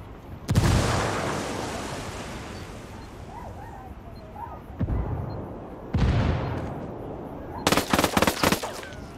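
A frag grenade explodes in the Ghost Recon Breakpoint video game, one of several sharp, booming blasts and gunfire bursts spread across a quiet background, ending in a rapid cluster of shots.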